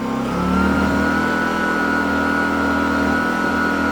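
A Kraft&Dele KD185 1.5 kW inverter petrol generator runs in eco mode with a steady, close engine drone and a constant whine, holding an even pitch after a slight rise at the start.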